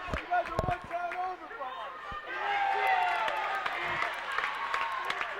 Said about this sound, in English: The crowd, the two student bodies really going at it right now